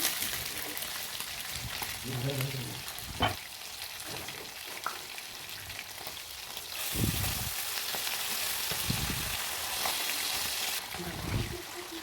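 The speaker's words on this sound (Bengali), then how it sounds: "মাছটাকে লাল লাল করে ভেজে নিব।" Tengra fish frying in hot oil, a continuous close sizzle and crackle with occasional spatters and stirring clunks, swelling louder toward the end.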